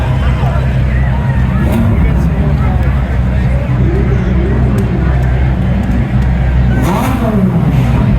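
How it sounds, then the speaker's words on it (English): Ferrari sports car engines rumble and rev continuously nearby as they roll past in a parade on Fifth Avenue, with crowd chatter and voices mixed into the steady traffic noise. "Hope you're enjoying this parade of super hyper exotic Ferraris."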